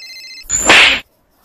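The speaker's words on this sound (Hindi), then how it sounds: "मेरा फोन बज रहा है" Mobile phone ringtone plays a short, bright electronic melody for about half a second, then a sharp slap-like burst as the call cuts off, followed by silence.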